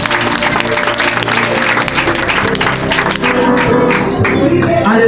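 A church congregation applauds in a sustained burst of clapping, loud and full, with crowd voices and cheering mixed in.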